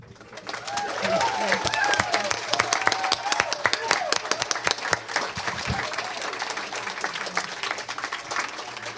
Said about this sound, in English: She even asked for a round of applause to thank the speaker